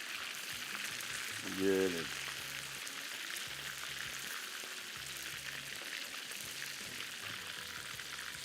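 Beef pieces for Mongolian beef sizzle steadily in a pan as each piece is turned, a continuous frying hiss with a brief spoken word near the start.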